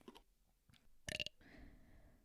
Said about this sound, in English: I'm just going to burp very quickly